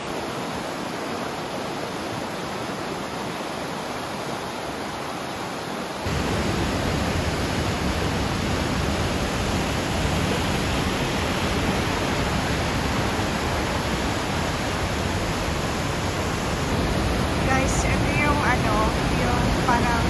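The lower falls at Johnson Canyon in Banff give a steady, broadband roar of rushing water that grows louder partway through, as if the listener moves closer, with crowd murmur and talking underneath.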